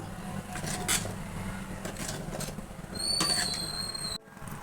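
Brinjal is stirred into a curry paste in a pan, with a spoon scraping and clinking against the metal in quiet, scattered strokes and no voices.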